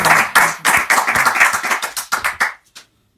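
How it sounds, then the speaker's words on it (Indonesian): A studio audience claps for Ustadz K on an Indonesian variety show, a loud, close burst of rhythmic hand claps that stops abruptly, leaving silence. "Tepuk tangan buat Ustadz K."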